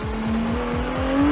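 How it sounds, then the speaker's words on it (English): A Ferrari 296 GTB engine holds a steady high-rev tone with repeated rising pulses beneath it, loud and continuous, alone with no voices. "And this gives this typical Ferrari sound."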